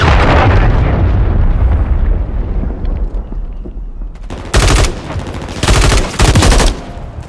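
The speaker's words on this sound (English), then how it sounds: "Friendly cruise missile deployed." Video game explosions from a deployed cruise missile strike, with dense rumbling blasts at first, then a quieter stretch and several sharp, loud bursts of gunfire-like detonations near the end, with no talking.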